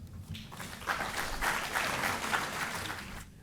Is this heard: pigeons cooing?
no